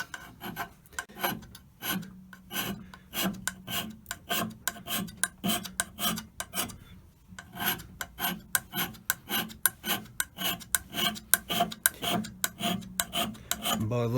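Steady rhythmic hand scraping on metal during a fitting job on an Elliot 14S machine, a long run of close, crisp rasping strokes with a brief pause midway and no talk.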